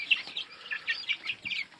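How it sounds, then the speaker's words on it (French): Brahma and Faverolle chickens with a rooster in a farmyard pen, giving a rapid run of bright clucks and chirpy calls, moderately close and continuous with no talking. "il y a le coq qui surveille"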